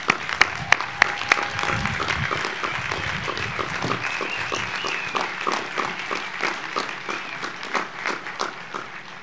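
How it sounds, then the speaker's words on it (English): Graduates at an outdoor college commencement for the class of 2020 applauding: a few sharp single claps at first, then sustained, fairly loud clapping from a spread-out crowd for the rest of the stretch. "Give yourselves another round of applause."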